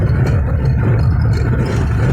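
A steady low engine rumble with road noise from a moving car near Bakkhali in light rain, continuous and fairly loud with no voices.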